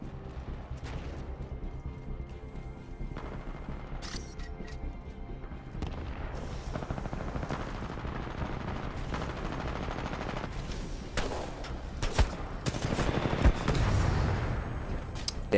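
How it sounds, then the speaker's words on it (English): Gunfire in the shooter video game Titanfall 2, with pistol shots and bursts of rapid fire, explosive booms and crashes scattered across a busy, loud battle soundscape. "So I was like, well, I'll just shoot him."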